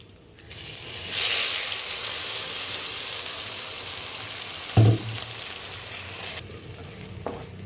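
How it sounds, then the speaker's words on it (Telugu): A sudden loud sizzle erupts as coriander-tomato chutney hits a hot garlic tempering, hissing steadily for several seconds with a brief clunk partway through before fading down. "పోపు వేగిపోయిందండి. ఇప్పుడు చట్నీ అంతలో వేసాలండి"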